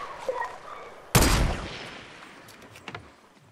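A single loud gunshot in the video game Fortnite: one sharp, close crack with a short, fading tail, alone against quiet game ambience.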